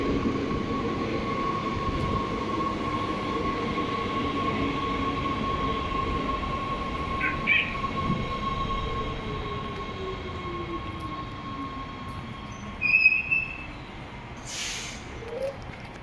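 A passenger train riding on rails through the province of South Holland, heard from inside as a steady rumbling roll with a constant hum, occasional faint squeals and clunks, continuous and fairly even.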